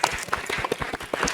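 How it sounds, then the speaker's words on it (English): Attendees at a sustainability dialogue session applaud the speakers, a scattered, uneven patter of individual claps heard fairly close, sparse rather than a full roar. "may I request for a louder applause to the distinguished speakers of this session"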